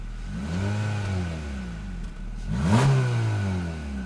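A 2023 Honda HR-V's 2-liter four-cylinder engine with a continuously variable transmission revs up under acceleration, drops briefly, then surges again, a moderately loud drone heard from inside the car with no talk.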